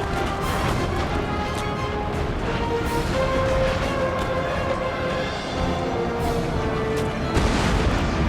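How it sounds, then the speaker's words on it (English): Artillery fire in the strategy game Napoleon: Total War, dense rumbling booms and crackling distant gunfire layered continuously over a battle din, with a few sharper impacts near the end. "I've directed my artillery to fire on the other building that he's occupied here"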